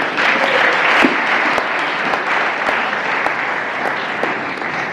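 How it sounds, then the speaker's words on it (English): Audience at a young professionals forum applauding, a steady close wash of many hands clapping at a conference hall, sustained and even throughout. "clap for yourself."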